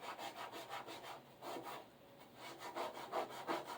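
Scrubbing by hand at paint or ink marks on a part from a backpack vacuum, a steady series of rough rubbing strokes repeating about twice a second, close and moderately loud with no talk.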